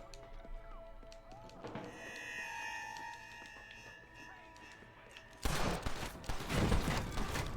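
Repeater rifle gunfire in Red Dead Redemption, a busy burst of shots and impacts swelling loud in the last seconds over a layered game soundscape.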